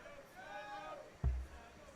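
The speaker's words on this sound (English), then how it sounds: "Hear the crowd breaking into song again." Crowd at a professional darts event, the 2023 CDC Continental Cup, singing together in a broad, moderately loud wash of voices, with a sudden low thump partway through.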